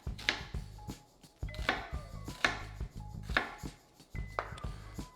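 A knife chops food on a cutting board while preparing New England clam chowder. Crisp, close strokes land in quick rhythmic clusters, each group followed by a brief pause.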